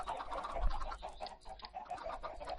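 Minecraft chickens cluck softly and repeatedly around a dispenser that shoots out eggs, a faint, busy chorus of little clucks with no voices.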